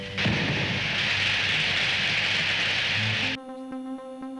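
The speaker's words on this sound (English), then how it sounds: "This ray gun ought to stop them." A ray gun fires in an old science-fiction film: one harsh, hissing electric blast lasts about three seconds, loud and steady, then cuts off abruptly into a low humming tone.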